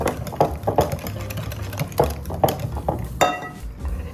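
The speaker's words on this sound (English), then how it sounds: "Put all of them into the bowl, then mix until well combined." Banana bread batter ingredients, including vanilla extract and cinnamon, being mixed in a bowl: repeated clinking and scraping strokes of a utensil against the bowl in an irregular rhythm, close and moderately loud.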